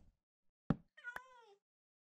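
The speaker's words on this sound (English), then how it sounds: "That was a cat sound." A cat meows once in the Minecraft modpack SevTech Ages, a short, clear, slightly falling cry heard alone after a soft thump, with no talking.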